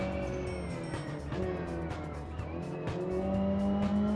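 A racing car in BeamNG roars with the throttle mashed, its engine note droning and climbing steadily at close range, with faint tire squeal along the way and no talking.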